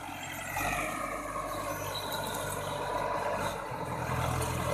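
Large, powerful farm tractor used for plowing fields runs with a steady, loud diesel rumble and drone throughout, close by and without talk.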